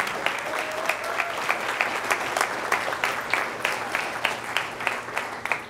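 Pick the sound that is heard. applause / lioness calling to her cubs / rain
applause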